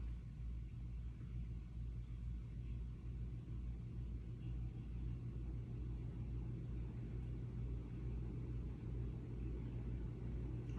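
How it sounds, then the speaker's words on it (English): A ceiling fan running on high setting gives a steady low hum and rumble with a faint constant drone, even throughout and moderately quiet, with no voices. "I'm going to turn on my ceiling fan on high"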